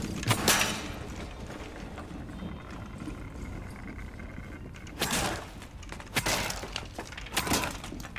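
Office window glass shattering in Rainbow Six Siege, a loud burst of breaking glass followed by several more sharp crashes and smashes among game noise.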